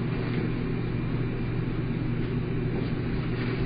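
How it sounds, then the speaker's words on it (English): A steady low diesel truck engine rumble drones throughout, idling or passing nearby, with no voices. "That sounds like a diesel truck."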